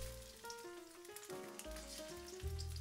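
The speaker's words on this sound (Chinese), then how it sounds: "我们先把虾仁煎一下" Shrimp pan-frying in hot oil over medium heat, a faint crackling sizzle under a louder tonal background, brief and close with no speech.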